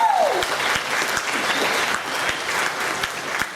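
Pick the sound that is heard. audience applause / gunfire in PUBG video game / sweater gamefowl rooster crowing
audience applause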